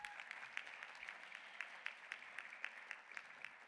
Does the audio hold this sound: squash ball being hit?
no